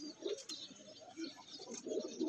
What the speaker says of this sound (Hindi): ये देखें जी माशाल्लाह डैडी कबूतर है